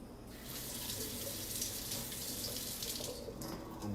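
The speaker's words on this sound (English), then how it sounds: "Rinse this one off real quick." Water runs steadily from a kitchen tap to rinse out a blender jar. The splashing and hiss stay close and continuous, and no one speaks.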